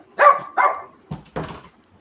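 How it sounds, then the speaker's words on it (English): A dog barks four times in quick succession indoors, two sharp higher barks followed by two lower, rougher ones, fairly close and loud with no talking over them. "I did not know my dogs were going to be barking."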